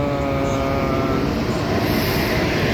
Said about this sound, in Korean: 기차가 들어오고 있고요